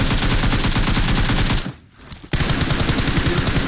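Loud, sustained automatic gunfire in the PUBG Mobile video game, a rapid continuous rattle broken by one brief gap partway through, with no talk over it.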